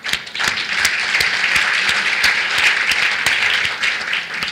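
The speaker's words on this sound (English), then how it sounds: "So a big round of applause for them." Loud, sustained audience applause for a conference panel on vehicle logistics, many hands clapping densely and evenly throughout.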